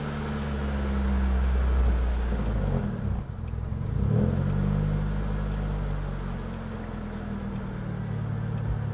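A car engine idles steadily after the ignition is switched on, cold, with a torn intake hose making the RPM roar; a loud, continuous low rumble swells and dips slightly, with no talk.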